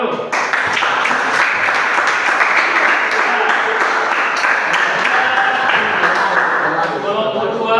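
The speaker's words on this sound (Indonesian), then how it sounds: "Tepuk tangan dulu." Sustained applause from a classroom group, steady and dense for the whole stretch after a group presentation on a Gorontalo chicken-skin dish, with some voices mixed into the clapping.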